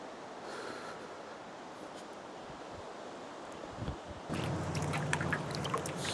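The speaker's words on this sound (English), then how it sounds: "You can see the river below, which is flowing in full force." Strong river flow in the Spiti Valley rushes as a steady broad roar, joined by wind buffeting the microphone and a louder, brighter burst of water and clatter in the last two seconds.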